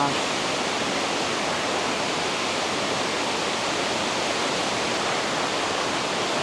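Sai Yok Noi waterfall in Thailand running in strong flood flow after rain, a loud, unbroken roar of rushing water that stays steady and near throughout.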